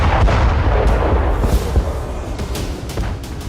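Russian artillery fire at Kupiansk in war news footage: a dense, continuous rumble of heavy booms and blasts, loud and close, with no speech over it.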